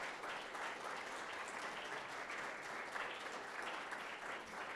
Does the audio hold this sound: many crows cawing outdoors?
no